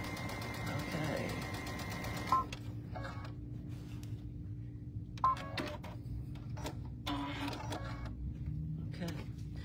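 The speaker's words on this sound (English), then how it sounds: "you want to make sure that you are sewing right on the edge of it." A sewing machine runs a steady mechanical whir as it stitches a straight 5/8 inch fabric seam along the edge, with brief pauses and restarts, while someone talks over it.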